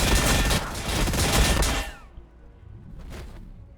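Dense, loud volleys of gunfire in the strategy game Warhammer Battlesector rattle for about two seconds, cut off abruptly, and give way to quieter ambience with one faint later burst.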